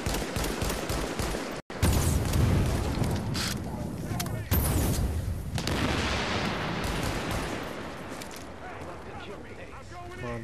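Dense, sustained gunfire and explosions from The Division video game, loud and continuous with a brief dropout near the start, fading slightly toward the end.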